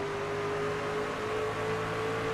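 Race truck engine in a sim racing game at Milwaukee Mile, a steady high-pitched whine holding loud and even throughout, with no clear gear change.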